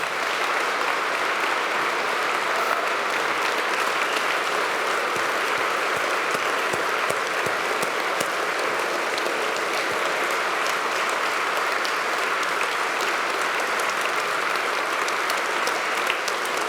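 A conference audience breaks into long, steady applause, a thick, even roar of many hands clapping that holds at full strength without pause.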